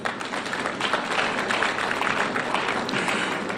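Sustained applause from an audience at a business forum in Kwahu, a dense, steady wash of clapping lasting several seconds with no voices over it.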